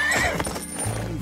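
Horse in the Wild West video game Desperados 3 whinnying loudly and close, a wavering high neigh, followed by a low snort and a clop of hooves, with game sounds behind it.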